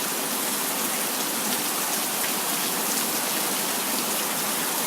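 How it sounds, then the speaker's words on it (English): Heavy rain pours steadily during a countryside storm, a dense, unbroken hiss close by with no letup across the whole stretch. "I believe this rain is picking up. Boy, it's just a coming down."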